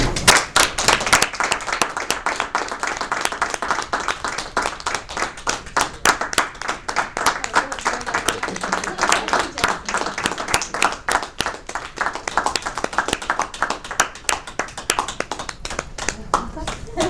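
An audience at a speech club meeting claps steadily for a speaker coming up to give a talk, a dense, even patter of many hands throughout.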